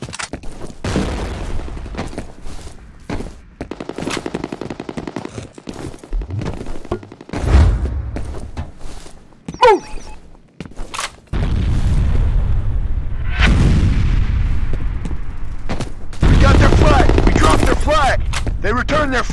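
In the shooter game F.E.A.R. during online capture-the-flag combat, rapid gunfire bursts crack in bunches, then a grenade explosion booms and gives way to a sustained loud roar of blasts and shooting, with game voices calling out.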